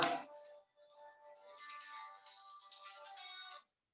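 A mobile phone ringtone goes off in a math class, a melodic electronic tune ringing out clearly for a few seconds after a brief sharp sound, then cutting off into silence.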